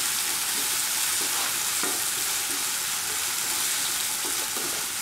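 Onions fry in oil previously used for frying fish, producing a loud, dense, continuous sizzle close up, with occasional soft stirring clicks and no voices.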